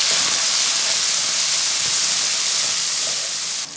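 Finely chopped tomatoes tipped onto fried onions in a hot pan set off a loud, continuous hissing sizzle that stays even throughout and drops away just before the end.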